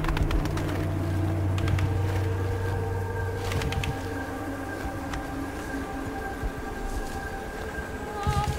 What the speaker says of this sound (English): I'll shoot that fucking bird.